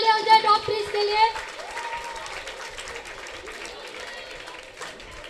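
An audience at a community student award ceremony in Chennai claps for the top three students, a brief burst of applause that fades quickly under ongoing talk and hall noise.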